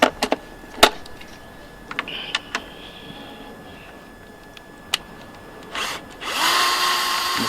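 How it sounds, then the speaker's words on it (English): A power drill backs out a loosened bolt on a 1989 Mercedes 230E, heard first as a few sharp clicks and taps, then a sustained high whirring burst near the end. "once you've used your spanner and the bolt is loose, you can use a drill to get it out"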